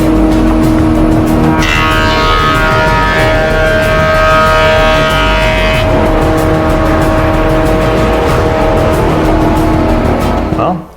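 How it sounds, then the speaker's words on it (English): A wood planer runs glued beech boards through, a loud steady machine whine with a harsher cutting tone rising in the middle pass, close and continuous until it cuts off at the end. "I just need to run it through a planer"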